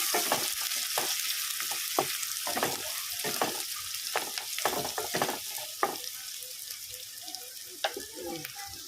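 Onions fry in hot oil in a pan, producing a continuous crackling sizzle with frequent sharp pops and spoon scrapes, close and moderately loud, with no talking.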